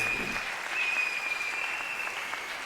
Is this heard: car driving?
no